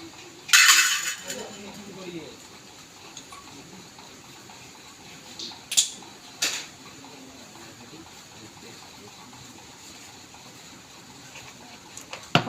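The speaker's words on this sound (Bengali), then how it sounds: "কড়া বসিয়ে দেব।" Metal wok (kadai) set down on a kitchen stove, a sharp clattering clank near the start followed by a couple of softer metallic knocks later, against a quiet background hiss.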